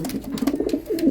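A racer pigeon coos close by, a series of soft low throaty pulses repeating rapidly over about a second, with no talking.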